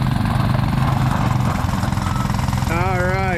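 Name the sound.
Honda 90 four wheeler and Coleman 100 go kart engines in tug of war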